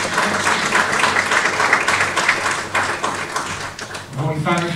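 Audience applause at an international theological conference on St. Symeon the New Theologian, a sustained wash of many hands clapping in a hall, fading as a voice begins speaking near the end.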